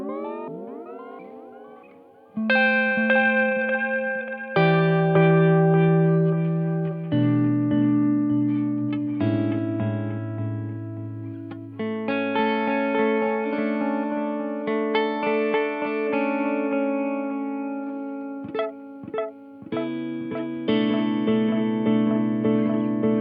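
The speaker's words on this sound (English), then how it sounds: "then it's this lovely, really dark delay" A guitar runs through a Chase Bliss MOOD pedal set to a dark delay, with sustained notes and chords trailing into murky, warm repeats. The sound plays alone and steady, close and full, for the whole passage.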